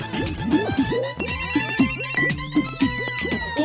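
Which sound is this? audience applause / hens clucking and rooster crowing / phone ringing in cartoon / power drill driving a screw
phone ringing in cartoon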